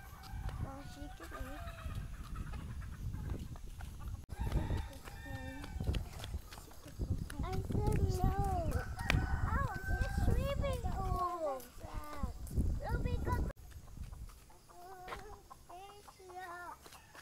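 Chickens cluck and call at a mountain chicken farm, a mix of hens and roosters close by and fairly loud, with people talking over the birds throughout.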